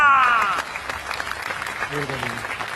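A crowd claps steadily at a cricket match prize presentation while a voice speaks over it, the applause continuing as a bright patter beneath the talk.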